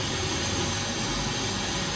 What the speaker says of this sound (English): I'll turn the blower on